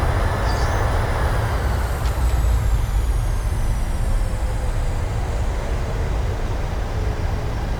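Loud, steady roar of a PMDG 737 rolling out after landing in Microsoft Flight Simulator 2020, speed brakes deployed and reverse thrust engaged, a continuous rumbling wash of engine and wind noise with no talk.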